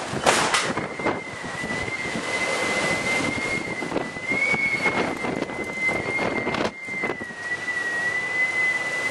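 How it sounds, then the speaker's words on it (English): Wind buffets the microphone in uneven gusts on high ground in Scotland over a steady high whine, loud and close, with no one speaking. "she's a little windy up here, so I won't say much"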